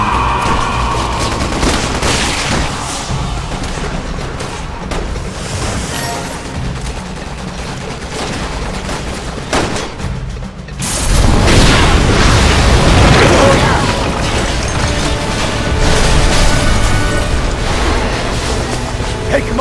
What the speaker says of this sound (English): Shoot the gas! We can blow these things to kingdom come!